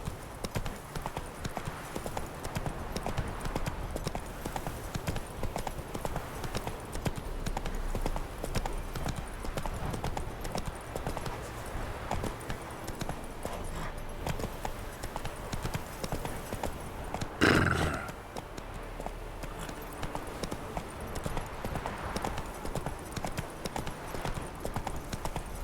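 Horse hooves clip-clop steadily in The Witcher 3, a continuous rhythmic patter of a mount on the move, with one brief louder burst partway through and no talk over it.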